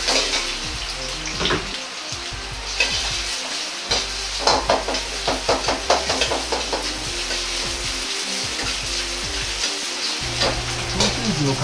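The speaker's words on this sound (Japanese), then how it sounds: "鍋に大さじ1の油を入れソーセージを炒めていきます。" Sausages stir-fry in a tablespoon of oil in a pan for Chinese-style German potatoes, giving a steady close sizzle with scraping, stirring clatters throughout.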